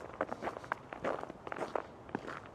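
Footsteps crunching over snow and ice, a steady walking rhythm of crisp, close crunches with no talking.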